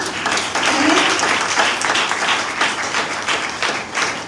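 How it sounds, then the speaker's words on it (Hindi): A church congregation claps together during a sermon, a dense burst of applause that swells and then holds steady, fairly loud and close. "आइए तालियां बजा के लिए"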